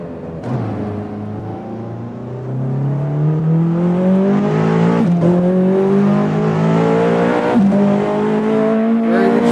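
A car engine drones steadily while driving, its pitch climbing smoothly as it accelerates through the gears, loud and close with brief shifts partway through and no talking.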